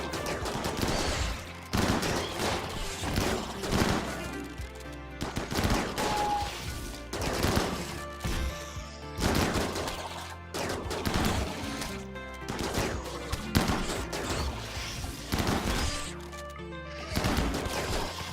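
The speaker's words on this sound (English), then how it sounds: "that chain shotgun is doing so much of the heavy lifting" Chain shotgun in RimWorld firing in repeated loud bursts of rapid blasts, with short pauses between volleys, amid game sound effects.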